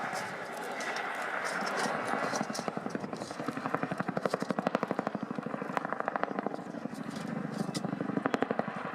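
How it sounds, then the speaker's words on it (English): A Chinook helicopter taxis at the Royal International Air Tattoo 2015 air show, its twin rotors producing a loud, steady rapid chopping beat over broad engine roar, close and continuous throughout. "Here you'll see the Chinook taxi forwards and backwards with the nose remaining high in the air."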